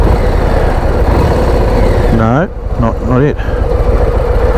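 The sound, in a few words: Harley-Davidson Low Rider ST motorcycle engine idling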